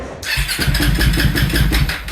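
A Rödpilen motorcycle with a suspected fuel-injection fault starts up and runs, catching abruptly and settling into a loud, close, rough engine roar that pulses unevenly throughout.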